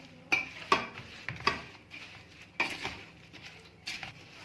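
Mango pickle is stirred and mixed in a pot, a series of irregular scraping clinks and wet knocks from a spoon against metal, close by and fairly quiet, with no speech.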